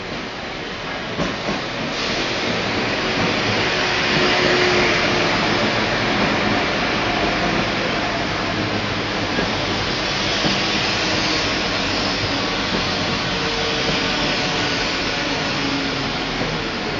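West Midlands Railway class 172 diesel units pull into Birmingham Moor Street station, a sustained loud rumble and engine drone with hissing and faint wheel clatter that runs steadily throughout.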